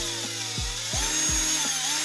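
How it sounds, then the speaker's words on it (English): A 1/4-inch drill bit widening a hole during a GPStar Supreme Neutrona Wand kit install, heard as a quiet drill whine with three short thumping bursts as the bit pushes along the hole's edges. "just run your 1/4-inch drill bit again and just kind of push along the edges as you're drilling"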